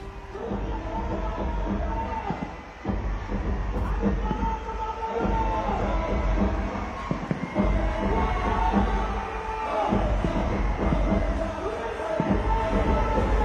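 Large crowd at a political rally in Beed held by the Ajit Pawar faction, a dense continuous murmur of many voices with swells and bursts throughout, loud and sustained.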